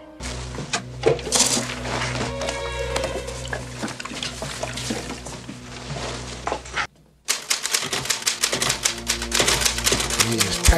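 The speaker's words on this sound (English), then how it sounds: "Typing his ass off." A manual typewriter clatters in rapid, dense keystrokes in a scene from the 1990 film Misery, loud and close, broken by a brief pause before the typing resumes even faster.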